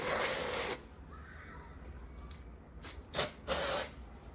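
Dry shampoo sprayed from a can into hair, three hissing bursts: one long spray at the start, then a short puff and a longer spray near the end, with quiet between.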